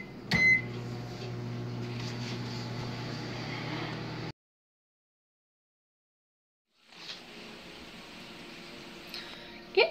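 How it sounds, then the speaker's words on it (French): Tupperware microwave pressure cooker holding potatoes, running inside a microwave oven: a steady close hum that cuts out abruptly for a couple of seconds of silence, then resumes, with faint clicks at the start and end. "Pour les patates, on met ça au four micro-ondes 15 minutes."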